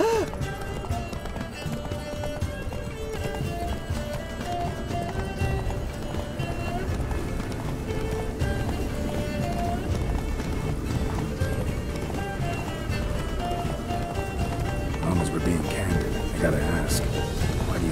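Roach, Geralt's horse in The Witcher 3, gallops with steady rhythmic hoofbeats under a layer of game music, loud and close throughout.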